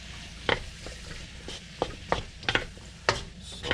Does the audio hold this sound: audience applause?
no